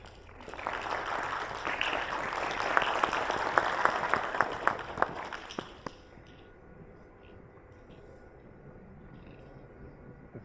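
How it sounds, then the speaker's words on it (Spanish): Applause from an audience at a forum on people with disabilities in Tlaxcala, welcoming a speaker: a burst of crowd clapping with some sharp individual claps, then cutting off abruptly around six seconds into quiet room tone. "Lo recibimos con un fuerte aplauso"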